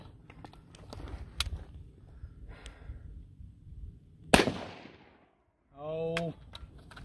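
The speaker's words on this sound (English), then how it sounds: "See if we can get a one last shot." A single loud Mini 14 rifle shot cracks out mid-clip at an outdoor range, sharp and close, followed by a brief silence and a short voiced sound; low background rumble and movement precede it.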